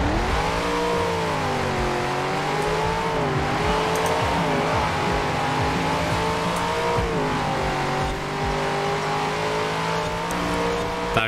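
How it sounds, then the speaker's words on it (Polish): Race car engine from Forza Horizon 4 holding a steady high, wavering whine as the car drifts, loud and continuous with slight rises and dips in pitch throughout. "Ten samochód driftuje sam z siebie."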